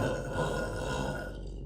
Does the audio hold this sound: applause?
no